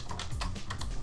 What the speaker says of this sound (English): press shift and find the plus sign on your keyboard